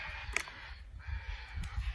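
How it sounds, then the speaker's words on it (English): Crows caw in a garden of African daisies, two short calls standing out over steady outdoor rustle and low background noise. "Look at those birds. Can you hear the birds?"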